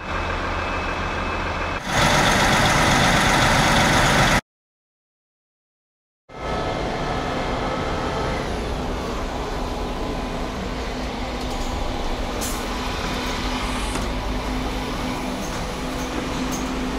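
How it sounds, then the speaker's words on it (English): Bus pulling up to a stop in Chamonix, a loud, steady engine rumble close by that cuts out briefly, then returns as a continuous drone with faint higher whines. "Oh, I think it might be that bus, actually."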